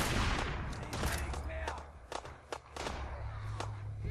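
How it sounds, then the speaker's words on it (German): A new sniper rifle fired in Fallout 4, heard as several sharp shots spaced through the clip over game ambience and footsteps, with someone speaking German briefly. "Oh, mein neues Scharfschützengewehr ausprobieren."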